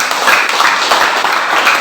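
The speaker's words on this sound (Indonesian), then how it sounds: "Jadi tepuk tangan untuk" Classroom group claps for a student group presentation, a short, close burst of irregular hand claps at moderate loudness with no voices over it.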